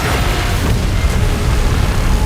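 A beam blast explosion from a Godzilla video game roars as a dense, sustained boom, loud and rumbling for its whole length with no pauses.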